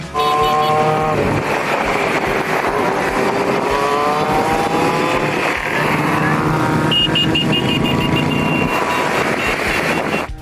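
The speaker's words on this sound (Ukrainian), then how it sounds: "Байкери проїхалися вулицями міста з синьо-жовтими стягами та прапорами 77-ї бригади" Motorcycles ride through city streets during a bikers' rally, a loud, continuous engine roar with pulsing horn-like tones rising over the din throughout.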